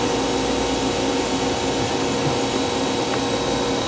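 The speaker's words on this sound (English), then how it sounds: "Come over here and grind this side." The side of a gun drill is ground on a grinder, giving a loud, steady, unbroken whirring hum with a gritty edge that runs throughout the short clip.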